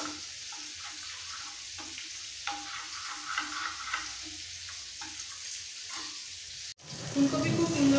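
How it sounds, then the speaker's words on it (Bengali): Cauliflower florets seasoned with turmeric and salt fry in hot oil in a pan, a steady close sizzle with small stirring scrapes, cut briefly near the end before a louder burst of frying. "ফুলকপি খুব সুন্দর করে ভাজা হয়ে গেছে"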